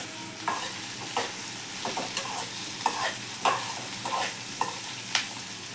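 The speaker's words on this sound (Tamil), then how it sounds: "இப்ப நம்ம வதக்கணும்." Tomatoes are sautéed in a pan for coriander chutney, with a low steady sizzle under a series of regular, close scraping stir strokes, roughly one every half second, and no talking.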